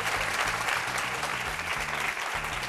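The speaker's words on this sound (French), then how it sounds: "Public, applaudissez-vous." A studio audience at a French evening talk show applauds together, a steady dense wash of clapping with a rhythmic low thump running beneath it.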